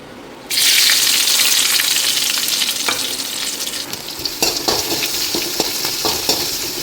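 Chopped onions and chillies hit a hot pan with a sudden loud sizzle that settles into steady frying, with clinking spatula scrapes and stirs toward the end.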